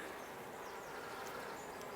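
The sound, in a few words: honey bees buzzing in a hive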